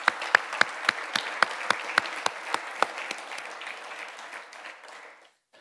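An indoor audience at a tech conference applauds a speaker, with a burst of clapping and a few sharp claps standing out before it fades to silence.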